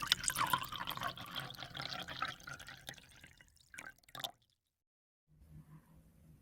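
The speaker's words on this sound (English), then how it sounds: "Pour the mixed fish sauce into the egg yolk bowl." Fish sauce poured into a bowl of egg yolk, a trickling, splashing pour running for about four seconds before it stops, followed by quiet.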